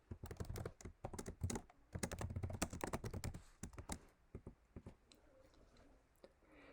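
Quick, close typing on a computer keyboard, with bursts of rapid clicky keystrokes that thin out to a few scattered taps toward the end; quiet overall and with no talk.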